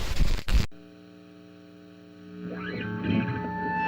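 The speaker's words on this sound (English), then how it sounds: "So this is the FuzzFace on full. Silktone Fuzz on full, turned down a little bit." Electric guitar through a SilkTone Fuzz pedal, a FuzzFace circuit, set full on: a short burst of fuzzed picking, then a long sustained distorted chord over steady amp hum, and a few more fuzzy notes toward the end.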